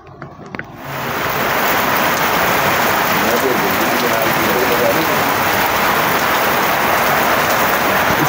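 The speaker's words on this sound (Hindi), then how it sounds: "सो पोखरा में बारिश होगी दोस्तों।" Heavy rain in Pokhara, Nepal pours down in a dense, steady hiss after a brief quiet start, loud and close throughout.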